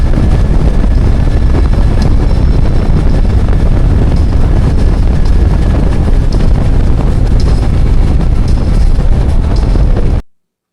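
Wind roaring past while riding a Harley-Davidson Road Glide ST motorcycle, heard as loud, constant buffeting rush over the microphone with a low engine drone beneath, cutting off abruptly near the end; no talking.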